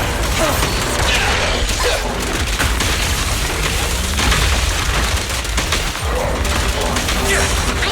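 Dense, continuous combat din from the video game Zenless Zone Zero, with booming explosions and rattling gunfire blended into a loud, unbroken wall of mechanical noise throughout.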